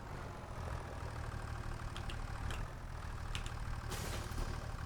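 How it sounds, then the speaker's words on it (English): A John Deere tractor engine idles steadily in a farming video game, a low continuous rumble with a few light clicks over it and no talk. "Trusty John Deere tractor"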